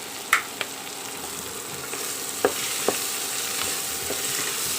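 A spoon scrapes and stirs masala into vegetable pulao in a frying pan, giving a few sharp clinks over a soft, steady sizzle close by.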